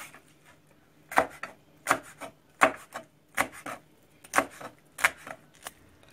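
A knife chops peppers and potatoes on a cutting board in sharp, evenly spaced strikes, about eight crisp knocks with soft scraping between them, close and clear with no talking.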